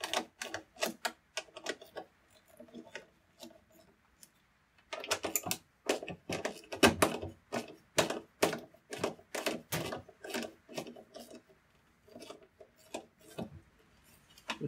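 Rapid bursts of ratcheting clicks from a socket wrench undoing the drain pump screws on a Fisher & Paykel top-loading washing machine, coming in quick clustered runs with short pauses between them.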